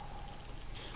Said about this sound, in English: You can hear that sound you're hearing is the sound of Phazon.